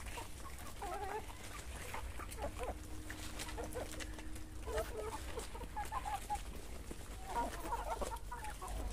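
A flock of young hens and roosters clucks and chirps steadily on a farm at moderate distance, with the calls overlapping and continuing throughout.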